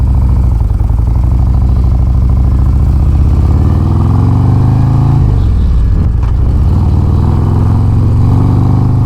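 A 2022 Harley-Davidson Road Glide Special rumbles steadily while being ridden, its loud, deep engine drone holding constant with a brief dip in pitch midway, then resuming, with no talking over it.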